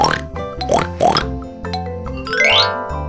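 A few short pig oinks and grunts rise over a bouncy musical backing, ending with a rising sweep.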